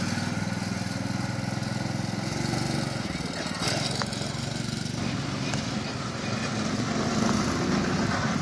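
A small go-kart engine drones and buzzes steadily nearby during father-son karting, with people talking over it.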